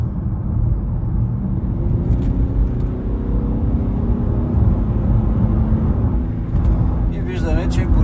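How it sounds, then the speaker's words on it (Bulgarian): Infiniti FX30d diesel engine revving as the throttle is pressed, a dense low rumbling roar held loud and steady throughout, close up, with faint talk in the background. "Даваме газ."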